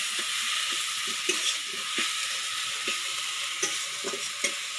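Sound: stir-frying spice paste with tomato and cumin

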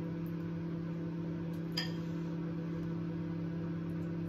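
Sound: microwave oven running

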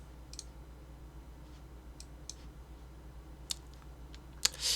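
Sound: mouse clicking on a stock trading screen

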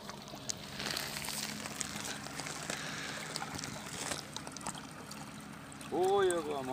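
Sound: fast-flowing river water

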